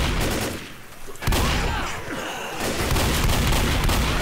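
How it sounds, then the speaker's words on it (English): Gunfire in the zombie shooter Left 4 Dead comes as dense, continuous bursts of loud shots with brief lulls, filling the whole clip at close range. "I'm just shooting randomly through the dark cloud."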